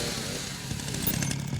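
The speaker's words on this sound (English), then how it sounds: "He has a chainsaw, so he might as well use it." Chainsaw from the video game Resident Evil 9, a steady low engine drone with buzzing texture that stays level across a brief stretch, fairly close and without speech.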